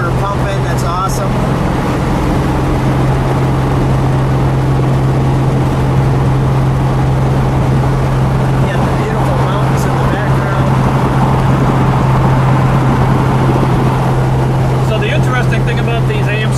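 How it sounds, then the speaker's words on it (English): A 1969 AMC SC/Rambler V8 muscle car on the move along an Arizona road, heard from inside as a loud, steady low engine drone mixed with road and wind noise, continuous from start to finish. "You can hear that motor pumping."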